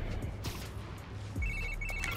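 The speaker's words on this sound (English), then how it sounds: "this guy's getting a lot of phone calls." A phone rings in Spider-Man: Miles Morales, a short trilling electronic bell pulsing in quick bursts near the end over a low game hum and scattered clicks.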